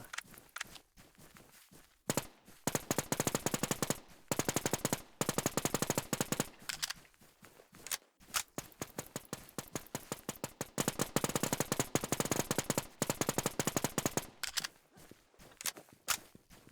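Rapid automatic gunfire from the survival shooter Infestation: The NewZ rattles in long, dense bursts with brief gaps, loud and close, plus occasional footstep-like scuffs between volleys.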